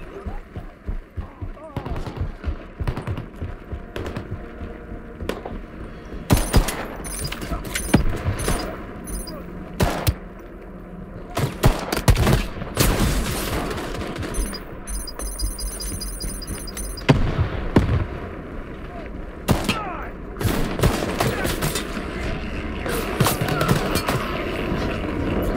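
Bursts of rapid gunfire from the PC shooter Shatterline crackle in repeated volleys, some sustained automatic strings and some short clusters, fairly loud over in-game ambience, with a voice talking intermittently between them.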